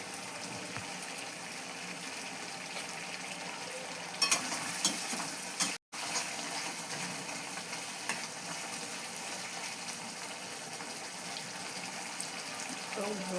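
Chicken curry masala is sautéed in a pan with a continuous soft sizzle and occasional scraping of a spoon stirring. There is a brief dropout partway through.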